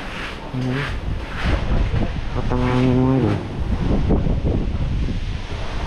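Strong typhoon wind roars steadily during Typhoon Tino, with a broad rushing gust that fills the whole stretch, and someone speaks briefly over it.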